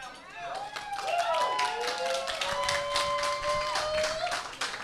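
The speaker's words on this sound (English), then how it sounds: "I'm going to need a bigger round of applause for the revelers" Audience at a live event applauds the revelers, a dense wash of clapping with whoops and cheering voices rising over it throughout.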